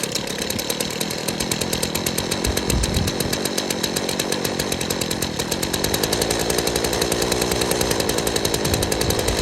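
A McCulloch whipper snipper (string trimmer) engine idles steadily while it warms up after a service, a continuous buzzing two-stroke drone at even loudness with no talk.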